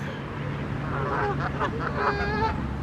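Goose honks sound at moderate distance, several repeated calls over steady outdoor background noise, with no talking.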